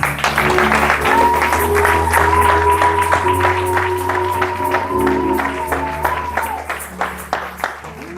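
A church congregation breaks into steady, loud applause to acclaim Jesus, filling the room with continuous clapping over a sustained organ or keyboard chord, fading slightly toward the end.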